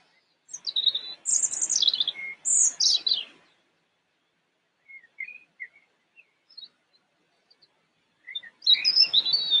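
Small songbird singing sweetly, clear high chirping phrases in two bursts, then a few faint scattered notes, then another bright burst near the end, heard alone in silence.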